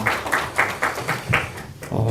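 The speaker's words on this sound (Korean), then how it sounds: "박수하겠습니다" A small church congregation claps in a loose rhythm, with about seven distinct bursts of hand claps heard close by over roughly two seconds, and faint voices underneath.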